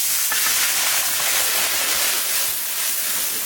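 Onions sizzle and hiss in hot oil left over from frying katla fish, along with bay leaf and cumin, producing a steady, bright, crackling spatter that fills the clip without talk.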